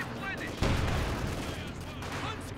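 A strafing run from Company of Heroes 2 lands with a dense, sustained roll of battlefield gunfire and blasts starting abruptly and continuing loud throughout, while a commentator talks over it.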